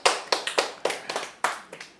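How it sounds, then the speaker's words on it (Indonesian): A church congregation claps during an Indonesian sermon: about eight sharp, separate claps, loud and close, in an uneven rhythm with short gaps and no talk. "Tepuk tangan buat Tuhan Yesus."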